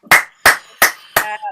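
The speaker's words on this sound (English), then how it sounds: "Yes, round of applause." Four sharp, loud hand claps at a comedy show, evenly spaced and close by, with a brief tail of voice after the last one.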